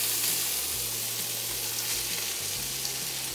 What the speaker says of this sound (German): Jetzt kommt ein Stückchen Butter dazu. Und jetzt kommen die Zudeln.